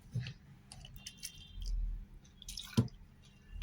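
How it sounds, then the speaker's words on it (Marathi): Cold water goes into ground pani puri masala paste in a mixer jar, giving brief close splashes, drips and wet squishing sounds over a few seconds, with no talking. "आता त्याच्यात पाणी टाकून मी तर थंडगार पाणी घेतलंय बघा"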